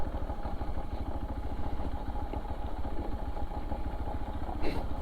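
Motorcycle engine running with a steady pulsing thrum and faint rattling clatter over it, close and continuous, with a brief sharp knock near the end.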